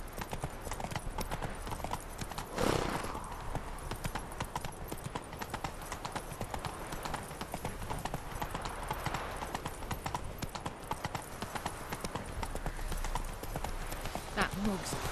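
A horse's hooves clip-clop in a steady, continuous rhythm in the Witcher 3 video game, with voices talking over the hoofbeats.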